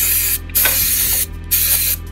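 Loud, close aerosol throttle body cleaner spraying on a Chevrolet Tahoe throttle body in three sustained hissing bursts separated by brief pauses, no talking.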